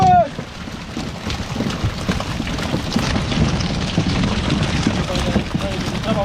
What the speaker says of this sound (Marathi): पाऊस पाऊस